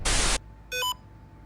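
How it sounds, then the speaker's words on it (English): A ghost-hunting device in a haunted hotel gives a burst of static hiss followed by a short electronic beep, close and fairly loud, with no talk. "Keeps beeping, but it's not showing anyone."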